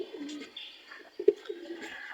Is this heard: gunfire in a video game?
no